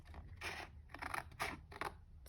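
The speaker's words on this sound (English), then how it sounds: "I'm just going to take my scissors and cut straight up that score mark" Scissors snip through card along a scored line in a tuxedo card craft, several rasping cuts in quick succession, close and fairly quiet with no talk.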